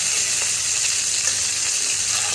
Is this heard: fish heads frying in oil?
yes